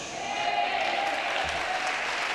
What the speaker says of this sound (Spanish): Denle ese aplauso.